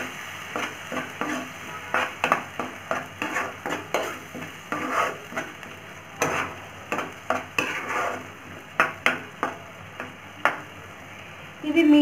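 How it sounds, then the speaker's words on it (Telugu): Frying onions in a pan with tomato puree being added, a quiet sizzle under a steady series of spoon scrapes and stirring knocks against the pan, regular and close. "సో ఆనియన్స్ ఫ్రై అవుతాయి కదా, మనం ఇప్పుడు టొమాటో ప్యూరీని యాడ్ చేస్తున్నాం. మిక్స్ చేసుకుందాం."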